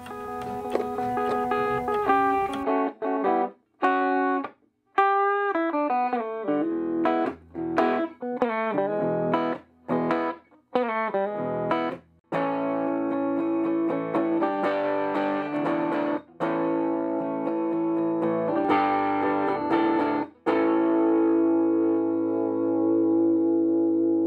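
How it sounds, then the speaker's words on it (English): Electric guitar played through a Fender Champ 5F1 tube amp built from a vintage Silvertone radio: a series of distorted chords and single notes with short gaps, then longer sustained ringing chords, clean and close without hum. "It's time to finally put my guitar through this thing and hear how it sounds."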